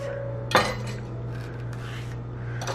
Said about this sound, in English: The first thing we're gonna need is a banana. And I'm just gonna cut this in half.